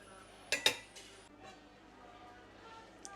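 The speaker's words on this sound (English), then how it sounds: "And just stir with a fork, just so it doesn't stick to the bottom." A fork stirs cooking food in a pot during Sunday lunch prep, giving a couple of sharp metallic clinks followed by softer scraping against the bottom, fairly close and quiet with no talking.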